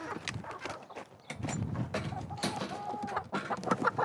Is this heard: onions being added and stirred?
no